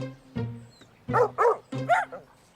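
Cartoon dogs barking near a dog pen: a single yip, then a cluster of three or four close, fairly loud barks in quick succession, with no talking over them.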